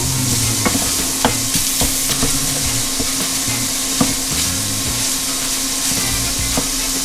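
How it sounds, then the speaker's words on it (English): Crumbled sausage frying in a pan for country gravy, sizzling steadily while a utensil stirs and scrapes the bottom with occasional sharp knocks. "So now I'll just continue to cook this, stirring every now and then"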